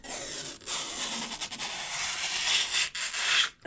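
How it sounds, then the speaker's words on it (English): Protective plastic film being peeled off the glossy piano-black casing of a TP-Link 4G SIM router, a close, soft, continuous ripping rub with a few brief pauses, with no voices. "Peeling the layer of protective plastic off of the piano black."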